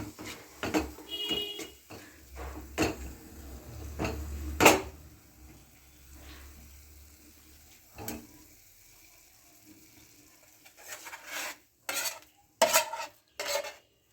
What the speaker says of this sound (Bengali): এবার আমি একটা জায়গায় ঢেলে নেব ঠান্ডা করার জন্য